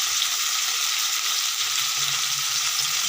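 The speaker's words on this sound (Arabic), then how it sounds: "ونسيبها كده تتسبك مع بعضها" Tuna simmering in a pan of sauce, a steady bright sizzle and crackle with faint low bubbling, close and continuous with no voices.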